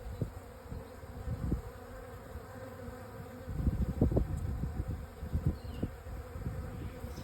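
A honey bee swarm settling into a new home buzzes continuously, a low drone that swells and fades as bees pass close by, with a quiet outdoor backdrop and no talking.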